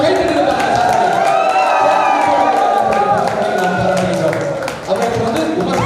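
A crowd at a college Pongal festival celebration claps and cheers for a prize winner, a loud, busy mix of applause, shouts and whoops with voices talking through it.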